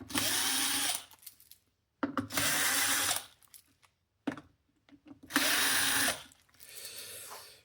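A power screwdriver whirs in three loud, even bursts of about a second each, backing out screws from a Technics SL-1210MK2 turntable, with small clicks and handling noises between runs.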